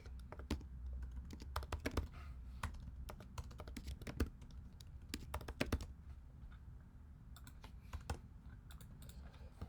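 Irregular clicking keystrokes on a computer keyboard, typed in short bursts with pauses, close and fairly quiet, with no voices.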